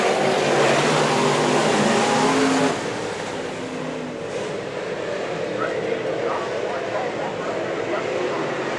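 Sport modified race cars roar around a speedway in a dense, continuous engine drone, loudest in the first few seconds and then easing slightly, with a commentator talking over the racing.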